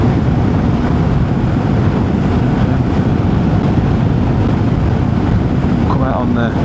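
400 scrambler motorcycle on a ride out, a dense steady roar of engine and wind rush filling the whole stretch, with a rider talking over it.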